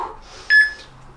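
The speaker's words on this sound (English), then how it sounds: "Let me just stop my timer." A workout timer gives a single short, bright electronic beep at the end of a home Tabata-style lower-body interval session with weights, sounding close against a quiet background.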